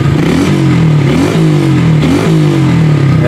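Honda Blade 125cc motorcycle with a modified exhaust revving hard, its engine note rising and falling in repeated throttle blips, loud and close with no talk.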